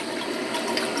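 A hot steel drill bit, heated through purple and straw temper colours, is plunged into water for quenching, giving a steady, dense hiss and bubbling sizzle that holds for about a second with no talking.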